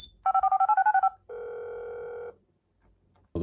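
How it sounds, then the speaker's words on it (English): A phone from the Grand Theft Auto 5 video game rings through a DualSense controller speaker: a quick warbling trill followed by a sustained electronic tone, then a brief sound at the end. "This could be the phone in Grand Theft Auto 5"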